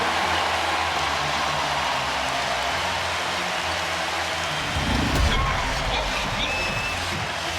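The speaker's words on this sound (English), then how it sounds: "Listen to this crowd." A packed arena crowd at an NCAA men's Sweet 16 basketball game between Houston and Purdue roars in a loud, continuous wall of cheering noise, swelling briefly partway through.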